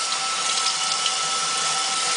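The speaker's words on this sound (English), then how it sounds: "And just get the water and just let the water rinse it off." Tap water runs steadily as it rinses hair and scalp, a continuous near splashing hiss with no talk over it.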